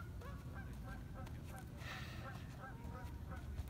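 A flock of Canada geese honking outdoors, repeated nasal calls overlapping steadily over a constant low rumble of background noise, moderately distant.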